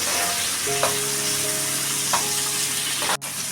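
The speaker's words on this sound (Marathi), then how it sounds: "बघा कांदा चांगला मी परतून घेते" Onions sautéing in a pan for vegetable biryani, a steady close sizzle and frying hiss with occasional stirring scrapes and a faint hum underneath.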